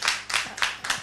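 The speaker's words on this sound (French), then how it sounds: "est-ce qu'on peut s'applaudir là?" A handful of people clap in a TV studio, four crisp bursts of claps about a quarter second apart in a short round.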